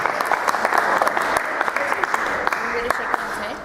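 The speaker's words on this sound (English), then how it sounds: "A round of applause for them for 8 grades" An audience at a cricket show claps for two presenters, a busy, close round of applause with crisp individual hand claps standing out, fading slightly toward the end.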